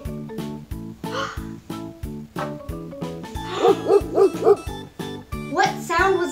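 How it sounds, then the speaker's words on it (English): A dog barks and yips in a series of short, sharp calls over light background music with a steady rhythmic beat, the barks growing louder and closer toward the end, as part of an animal sound matching game for children. "it's the sound of a dog"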